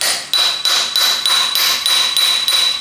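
A hammer knocks a metal rod into a swingarm jig during hardtail frame fabrication, landing about eight sharp, evenly spaced ringing strikes close by with no talk.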